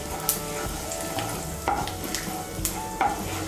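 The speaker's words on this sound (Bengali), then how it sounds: "এর মধ্যে আমি তেজপাতা, গোটা গরম মশলা আর গোটা জিরে ফোড়ন দিচ্ছি" Bay leaf, whole garam masala (cardamom, cloves, cinnamon) and cumin seeds hit hot oil in a pan and sizzle steadily and close, with occasional sharp pops and spoon scrapes stirring them over a few seconds.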